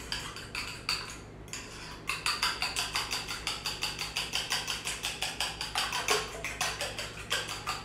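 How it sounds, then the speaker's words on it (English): A breakfast mixture whisked in a bowl until smooth, rapid rhythmic clinking of utensil against the bowl in steady strokes, close and moderately loud, with no talk. "now we mix everything together again"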